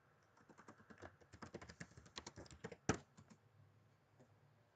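A computer keyboard is typed on in a quick, close burst of light key taps, entering business-card text in CorelDRAW X8. One louder key strike stands out near the end, and then the tapping fades to quiet.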